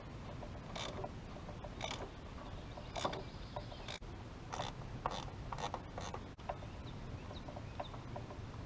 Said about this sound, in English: This 8mm ratcheting wrench is very handy for this repair.